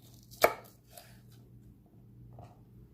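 An onion being chopped on a cutting board for steak fajitas: one sharp, close knife thunk followed by a couple of softer taps, in a quiet kitchen.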